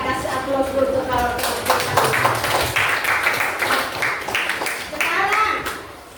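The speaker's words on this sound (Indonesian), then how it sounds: "kita kasih aplaus dulu" A classroom group claps in a burst of fairly loud, uneven applause lasting several seconds, with children talking and chattering over it before it fades out.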